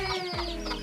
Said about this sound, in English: I hear someone singing over there. It's a chicken.